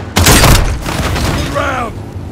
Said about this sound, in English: Has hit with the launcher!